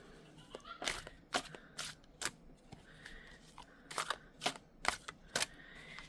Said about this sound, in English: I will go through the deck and I will shuffle this way 5 times.